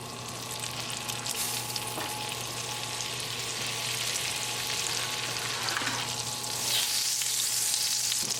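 Olive oil and butter sizzle in a skillet on a lit burner, a steady close frying crackle that swells slightly louder toward the end.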